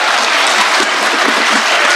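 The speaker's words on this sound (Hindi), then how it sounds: "तो एक बार जोरदार तालियां" Loud, dense applause from a mushaira audience after a poem is recited, a steady wash of many hands clapping close up throughout with no voices over it.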